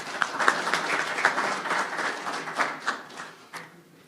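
Audience applause in a lecture hall as a speaker is welcomed to the podium at a university transportation talk, moderate and fairly sparse, with individual claps standing out before it thins and fades near the end.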